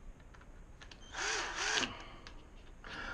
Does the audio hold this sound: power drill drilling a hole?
yes